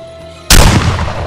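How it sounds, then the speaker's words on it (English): A single loud, close gunshot cracks out in the Friday the 13th video game, a sudden blast following a quiet stretch and then a decaying boom. "He got shot in the face."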